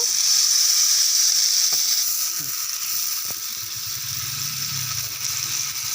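Fried potatoes and spices hiss and sizzle loudly in a pan as water is poured in, a steady close steam hiss that eases slightly, with a few faint clanks underneath and no talking.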